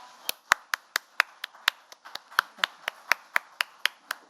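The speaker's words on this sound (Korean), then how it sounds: "박수로 환영해 주시기 바랍니다" Sharp claps ring out in a steady, fairly quick rhythm, about a dozen and a half over several seconds, as a small group welcomes the Korean National Assembly Speaker, rather than a big crowd.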